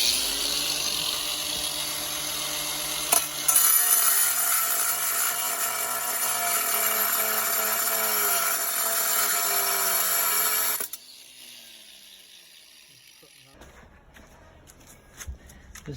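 Angle grinder cutting thick 4mm metal for a tandoor, a loud, close, high-pitched whine that holds steady for about eleven seconds before cutting out, followed by quieter handling noise.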